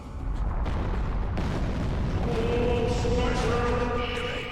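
Booming cannon-like blasts from a battleship firing in the card battle video game Eye of Judgment, a dense continuous rumble with sharp bursts over game music tones.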